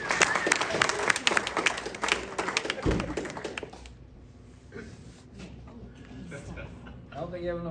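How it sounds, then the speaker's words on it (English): Applause and clapping from a birthday roast audience rises loudly for a few seconds, then fades into lighter scattered claps and murmuring. "let's give a big round of applause for Mr."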